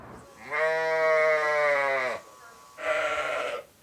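Sheep bleating inside a sheep shearing shack on a New Jersey farm: one long, loud, wavering bleat, then a shorter second bleat after a brief pause, both close by.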